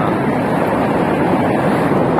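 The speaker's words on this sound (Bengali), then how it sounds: "পানির শব্দ শুনছেন কত সুন্দর শব্দ" The Parvati river flowing near Kasol, a continuous close rush of water with dense, even broadband noise and no voices over it.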